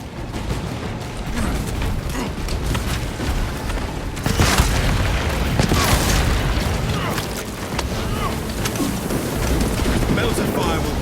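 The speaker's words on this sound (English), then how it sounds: "Melter fire will cauterize and fuse their tunnels shut." A melter weapon fires in Warhammer 40000: Space Marine 2, blasting a tunnel with a dense, roaring burst and sustained searing rush amid gunfire and combat noise, while voices talk throughout.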